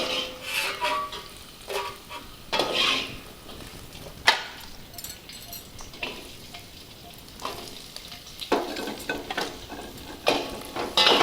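Ingredients for nalleru pachadi fry in a pan with a constant close sizzle, broken by frequent sharp stirring scrapes and the clatter of a utensil against the pan, and no voices.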